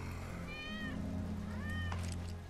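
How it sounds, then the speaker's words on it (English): A cat meows twice in the Final Fantasy VII Remake game, two clear, rising-and-falling mews over a constant low mechanical hum in an underground setting. "That's Wedge's cat"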